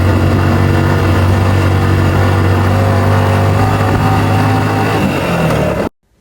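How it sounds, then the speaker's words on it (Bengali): Motorcycle engine working hard on a steep hill road in Bandarban toward Boga Lake, a loud steady drone with a strong low hum running nearly six seconds before cutting off abruptly. "বাইকে কতটা প্রেসার পড়ে, সেই সাউন্ডটা আমি আপনাদেরকে একটু শোনাচ্ছি"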